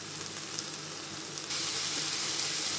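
Chicken simmering in a pan for a coconut milk curry, giving off a steady bright sizzle and bubbling that grows a touch louder halfway through, close and without speech.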